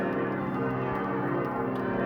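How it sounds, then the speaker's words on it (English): Church bells ring in the town of Wu, heard from a rented room nearby: a loud, continuous wash of overlapping bell tones that sustains without pause. "I kind of forgot when I got this room that I'd have bells all the time"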